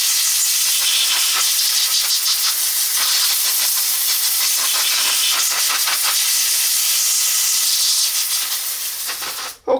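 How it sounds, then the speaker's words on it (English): A compressed air line blows a steady, loud hiss across a Harley-Davidson starter motor to clear off cleaning fluid, continuous for nearly ten seconds before cutting off abruptly with a brief clunk. "Just blow this off with my airline a bit"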